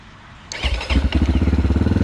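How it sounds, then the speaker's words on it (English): A GPX FSE/TSE motorcycle engine starts for the first time: a quiet hiss, then the engine catches abruptly and settles into a loud, steady, rapidly pulsing idle close by. "That is the very first time the engine turned over."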